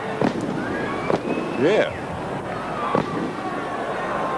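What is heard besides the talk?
fireworks going off outside a football ground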